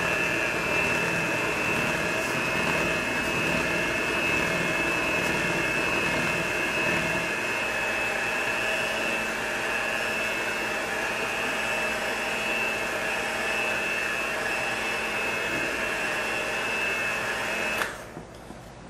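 Steady, loud drone of a stand mixer kneading gluten-free rice flour sourdough at low speed, running alone without talk and cutting off near the end.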